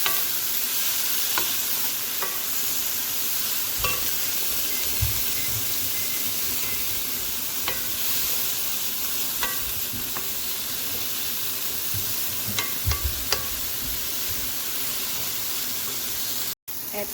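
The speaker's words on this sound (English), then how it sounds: "Add in slice of fish cake and just stir it for 3 to 5 minutes." Sliced fish cake, chayote sticks and long beans stir-fried in a pan, producing a soft continuous sizzle with periodic light scrapes and taps of a spatula, fairly quiet and without speech.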